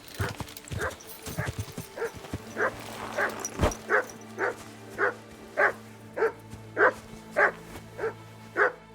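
Dog barking in the video game Kingdom Come: Deliverance II, a steady, evenly spaced run of about a dozen short, sharp barks at moderate distance over a low background hum, with a brief voice near the start.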